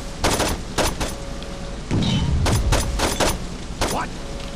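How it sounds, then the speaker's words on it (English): Pipe bomb exploding in Saints Row 2, a low rumbling boom mid-clip amid bursts of sharp gunfire cracks before and after, loud and close, with a voice speaking over parts of it. "Pipe bomb."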